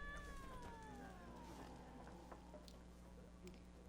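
A cat meows inside The Witcher 3: Wild Hunt, a couple of rising and falling cries near the start over a steady game ambience hum that carries on faintly throughout.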